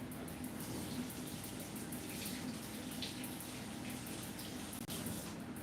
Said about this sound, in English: So I'm going to rinse a few of these pimento seeds.